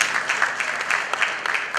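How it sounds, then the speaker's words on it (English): Audience applause for a panel at a retail and e-commerce payments event, a steady wash of many hands clapping at moderate loudness for under two seconds, with no voices over it. "A round of applause, please."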